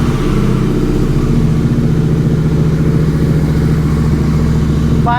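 A Continental GT 650 motorcycle fitted with a Gursewak exhaust idles loud and close, a steady deep burbling thump with a rising note at the very end.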